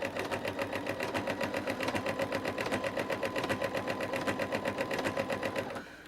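A sewing machine with a ruffler attachment stitching fabric, a steady fast mechanical clatter with an even rhythmic pulse that runs close and continuous for several seconds before slowing at the end.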